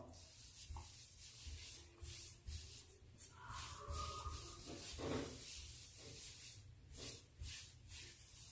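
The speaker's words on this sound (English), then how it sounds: "Rub it in your hair." Hands rub hair product into hair, making soft, close scrubbing and brushing sounds in irregular bursts. The sound is quiet, with no talking.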